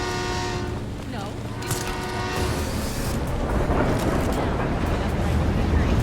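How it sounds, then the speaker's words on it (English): A train in the video game Gotham Knights rumbles past, its horn sounding near the start as the steady roar builds louder toward the end. "Almost ran into a train."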